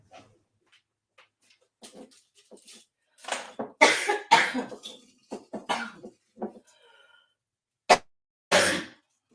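A woman coughing: a series of short, raspy coughs in uneven bursts, some clustered and some isolated, close and moderately loud against a quiet background.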